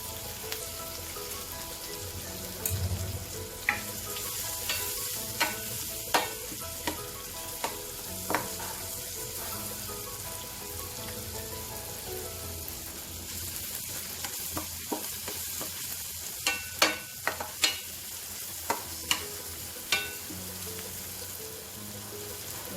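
Asafoetida sizzles in hot oil for a tiffin vegetable dish, a steady close frying hiss with sharp crackles and pops scattered throughout and no voices.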